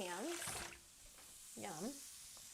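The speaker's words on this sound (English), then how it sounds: "Wash my hands." Tap water runs steadily into a sink while hands are washed, a soft, constant splashing hiss that continues beneath a person talking.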